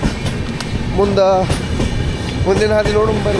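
A fast express train pulls out of a station on the Bengaluru to Mantralaya line, with loud rumbling wagons and squealing wheels close by, while someone speaks over the noise.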